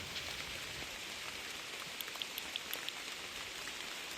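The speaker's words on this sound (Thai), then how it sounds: "ฝนตก" Rain falls outdoors in a steady, dense hiss, with a few sharper drop ticks standing out near the middle. It is heard alone at moderate volume, with no talking.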